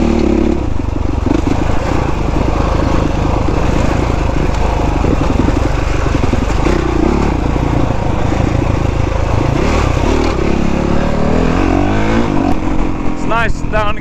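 A Honda CRF 450 enduro motorcycle ridden along dirt trails, its engine droning loudly and steadily right at the rider's position, with rattling clatter and shifting revs throughout.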